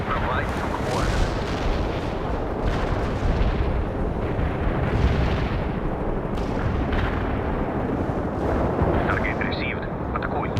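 Heavy artillery barrage explodes continuously in the real-time strategy game World in Conflict, a dense, rumbling wall of booms and blasts that stays loud throughout, with voices sounding in the mix.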